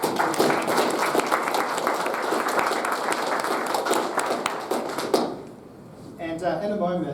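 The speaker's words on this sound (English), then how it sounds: "let's give IBM a big round of applause for that" A tech conference audience gives a round of applause for the sponsor IBM, dense even clapping for about five seconds before cutting off abruptly, followed by a voice speaking.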